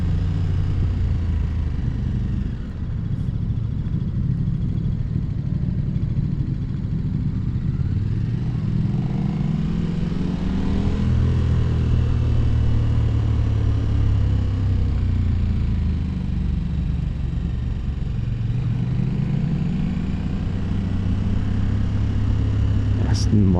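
A KTM Super Duke motorcycle engine rumbles steadily throughout a ride, with rising and falling revs and wind noise, while a rider talks over it.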